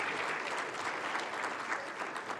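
Audience at an annual legislative breakfast applauds, a steady, moderately quiet patter of many hands clapping continuously for a couple of seconds with no talk.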